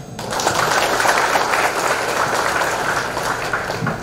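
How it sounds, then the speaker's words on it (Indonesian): A crowd of students and lecturers claps steadily for new students at a 2022 school orientation welcome, the dense applause starting almost at once and holding an even, fairly loud level for about four seconds. "Boleh tepuk tangannya."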